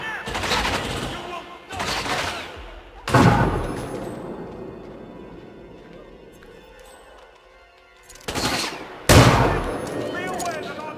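Loud bursts of gunfire in the Hitman 2 video game come in several separate volleys, each with a sharp attack and a ringing tail, and a long quieter stretch falls between the third and fourth volleys.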